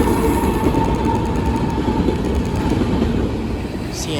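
A freight train on a CN line, led by a KCS locomotive, rolls past close by in a loud, steady rumble of wagons, with faint rhythmic wheel clatter and no voices.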